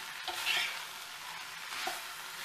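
Boiled wheat and sprouted beans being stirred into fried spices in a pan for ghughari, a steady close sizzle with repeated scraping strokes of a spoon throughout.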